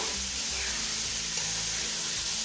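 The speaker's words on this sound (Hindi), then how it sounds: "चने भी डाल दिए। मैं इसको अच्छी तरह से भून लूँगी।" Chickpeas sizzle and fry in an oily pan while being stirred for chana pulao, a steady close hiss with soft scraping underneath and no talking.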